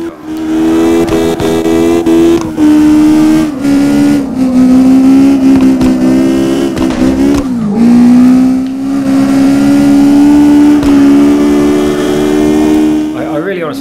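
Video-game car engine from CarX Drift Racing Online, revving steadily and droning with shifting pitch through a drift, loud and continuous throughout.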